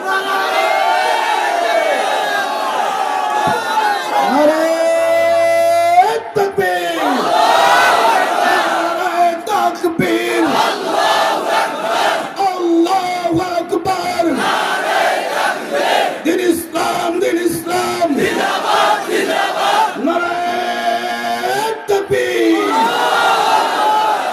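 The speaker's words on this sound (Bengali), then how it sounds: "এই কিছুক্ষণ স্লোগান দাও।" A large crowd of young men chants slogans in loud, rhythmic unison, with a leading voice calling and the group answering in repeated, forceful cries close by.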